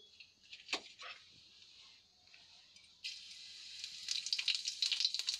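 Half a spoon of cumin seeds crackle and sizzle in hot oil in a kadai, a soft hiss that swells into denser spitting and popping, with no talk over it.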